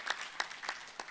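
Audience at a yoga gathering with Swami Ramdev clapping with both hands, a brief patch of scattered claps with a few sharper individual hits, moderately close.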